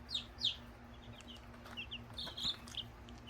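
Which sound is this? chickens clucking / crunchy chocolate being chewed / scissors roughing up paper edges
chickens clucking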